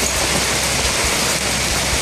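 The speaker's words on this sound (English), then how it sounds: "You know it's hail." Hail falls during a storm in California, a dense steady roar of pelting ice on surfaces that fills the whole stretch at close range, loud and unbroken, with no voices.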